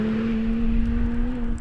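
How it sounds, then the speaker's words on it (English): BMW 1M Coupe pulling hard in second gear after a clutch dump, a steady loud engine drone with a strong sustained tone and no voices. "Second gear, we're gonna dump the clutch on it."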